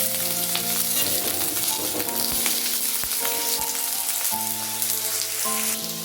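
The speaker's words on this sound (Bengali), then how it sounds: "আলুগুলোকে ভেজে নিচ্ছি" Potatoes fry in hot mustard oil with a loud, constant sizzle and crackle, while music plays underneath throughout.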